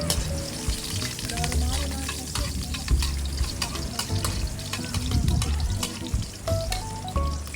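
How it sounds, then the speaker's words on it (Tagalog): Garlic sautés in a hot pan for ginataang langka, a continuous close sizzle broken by clinks and stirring, with a brief splash of water and some background voices. "Igisa natin yung bawang."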